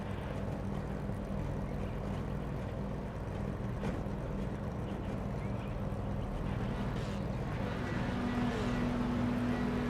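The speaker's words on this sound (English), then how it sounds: "We can hear the cars revving." Simulated FIA F4 racing cars idle and rev on the grid at Oulton Park in iRacing, a dense, steady layered engine drone with a higher whine rising near the end.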